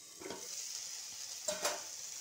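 Chopped home-grown chilies stir-fried for chow mein, with a steady quiet sizzle and a couple of brief scraping stirs of a utensil in the pan, close up and without talk.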